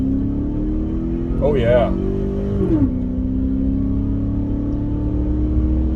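Chevrolet Silverado pickup truck accelerating onto a highway, a steady droning engine and road rumble from inside the cab, with a brief rising rev as a voice speaks over it.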